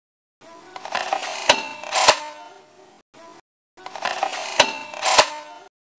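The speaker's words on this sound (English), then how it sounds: "Like a camera shutter speed thing." A camera-shutter-like mechanical sound effect for a film score plays twice as matching phrases, each a run of clicks, creaks and ratcheting gear noise with two sharp loud snaps, separated by a brief silence.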